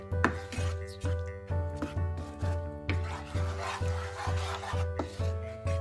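A spoon scrapes and stirs through a yogurt jackfruit curry in a pan at low heat, giving steady rhythmic rubbing strokes roughly every half second, close and moderately loud with a faint background hum.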